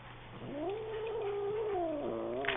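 A cat yowls in one long, wavering, drawn-out moan at a new puppy indoors, fairly close and alone, with the pitch rising and falling before a brief sharper sound at the end.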